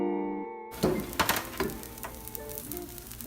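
Asparagus sizzling in a pan, a steady close hiss of frying with a few soft clinks and stirring knocks near the start.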